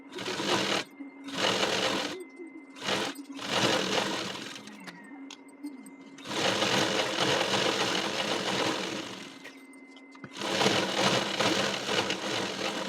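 A sewing machine stitching a blouse belt runs in several loud bursts of rapid whirring, separated by short pauses and one longer quiet gap, heard alone with no talking.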